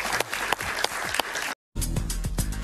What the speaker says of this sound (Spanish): Un aplauso para Paciano.